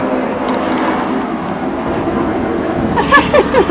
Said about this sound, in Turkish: Araba bak şuna.